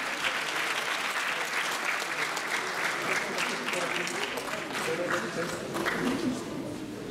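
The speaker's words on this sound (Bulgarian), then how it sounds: "Още веднъж аплодисменти." A large audience at a Christmas awards event applauds steadily, a dense, even wash of clapping that holds from start to finish without pause.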